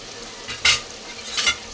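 Onions and green chillies frying in a pan are stirred with two quick scraping strokes over a soft, continuous sizzle, close and without talk.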